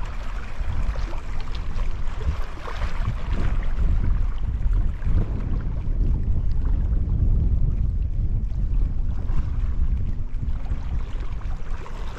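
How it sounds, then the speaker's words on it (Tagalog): Strong wind buffets the microphone while fishing from a boat on open water, a steady loud rumbling roar with lapping water underneath, continuous throughout. "Lakas ng hangin."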